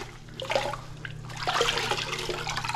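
Running water splashes over a sponge being rinsed of excess grout during a kitchen remodel, a steady trickle and patter that grows fuller partway through, close and alone.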